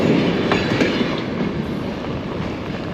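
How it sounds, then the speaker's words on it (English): A train passes close by along a rail trail, a loud continuous rumble of wheels on track with faint clacking, holding steady for the whole stretch. "here comes the train."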